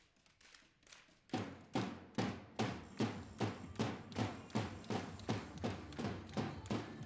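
Air rifle shots ring out in a junior women's shooting competition final, a steady run of sharp, evenly spaced cracks, about one every half second, close and crisp over a quiet hall.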